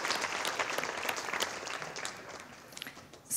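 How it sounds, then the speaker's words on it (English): Applause from the crowd at a graduation celebration, continuous clapping that tapers gradually and stays moderately quiet, as if heard from across the room. "let's give this wonderful community a round of applause"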